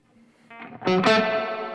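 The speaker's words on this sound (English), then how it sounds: "me turn the reverb on with that." Electric guitar played through a Tone King Imperial preamp alongside a Marshall JMP with reverb switched on, a picked chord swelling loud and harmonically rich, then ringing out in a long, washy reverb tail.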